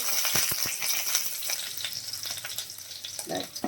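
Urad dal and dried red chillies fry in hot oil with a steady, bright sizzle and scattered crackles and pops, close and fairly loud, with no one talking.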